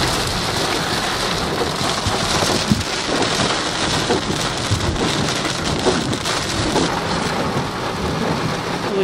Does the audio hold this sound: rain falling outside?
yes